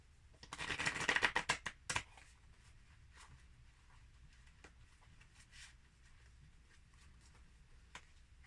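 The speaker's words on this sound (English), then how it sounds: "I gotta really shuffle these though because I just put them together" A deck of thin tarot cards is shuffled in a quick, riffling burst of crisp flutters, followed by scattered faint taps and rustles as the cards settle.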